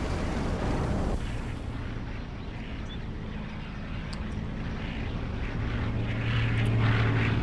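Propeller-driven Bison aircraft in the video game Codename: Panzer, a steady loud drone of engine and airframe roar that holds throughout and swells toward the end, with no talk over it.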